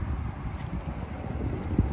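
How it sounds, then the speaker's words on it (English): Strong, gusty wind blowing over choppy water at a boat ramp on Botany Bay, Sydney, in cold, rough, rainy weather, a steady low buffeting roar against the microphone with one brief thump near the end. "Very windy"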